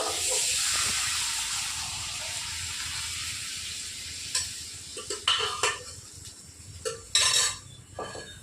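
Lentils (dal) dropped into hot oil in a pan with tomatoes, dried chillies and bay leaves, a loud steady sizzle that fades, followed by scattered clinks and scrapes of stirring.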